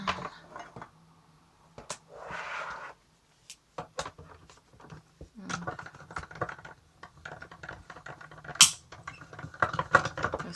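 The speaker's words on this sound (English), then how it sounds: "That's just the paper cutting through" A Sizzix Sidekick die-cutting machine cranking card through its rollers, a run of irregular clicks, ratcheting ticks and crunching mechanical bursts, close and fairly loud, with brief pauses between turns.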